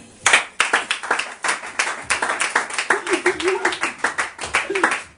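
A church congregation at a Sunday service claps in a steady, loud rhythm to acclaim God, the beats coming fast and evenly and continuing throughout.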